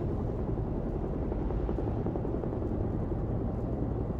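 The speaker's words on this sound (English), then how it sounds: "Boss sends his own private helicopter to get an agent back." A helicopter in the video game Beyond: Two Souls gives a steady, loud rotor and engine roar that holds unchanged throughout with no speech over it.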